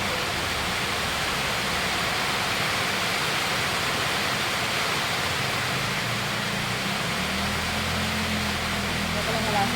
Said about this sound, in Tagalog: Thanks God sa ulan.